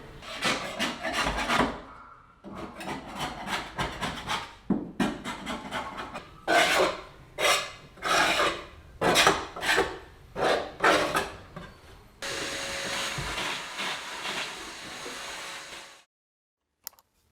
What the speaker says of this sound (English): it scrapes off and there's perfectly clean paint underneath